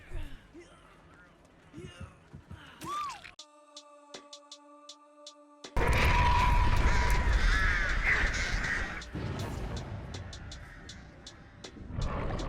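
Crows caw from the Artist killer in Dead by Daylight, a cluster of harsh croaks amid game effects and a loud whooshing passage, while a voice talks over parts of it.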